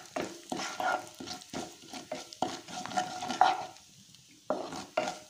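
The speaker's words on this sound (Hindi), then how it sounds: "करके इसमें जीरा, राई, थोड़ा सा इसे स्प्लैटर होने देते हैं जी" Cumin and mustard seeds sizzle and crackle as they splatter in hot oil, with steady frying hiss broken by clattering stirring bursts close by.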